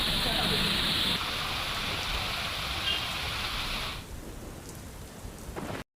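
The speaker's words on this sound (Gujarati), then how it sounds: "ભારે પવન સાથે વરસાદ વરસી રહ્યો છે" Heavy rain driven by strong wind during a storm in Gujarat, a loud steady broadband wash that drops abruptly to a quieter patter after about four seconds.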